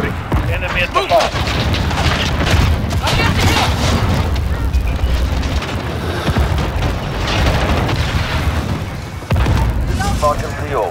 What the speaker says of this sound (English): Cluster strike ready for launch.